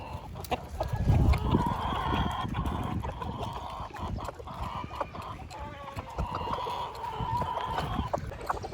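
Chickens cluck in a backyard coop in Parañaque, with scattered calls and occasional crowing over a steady outdoor murmur, fairly close and moderately loud, with no talk.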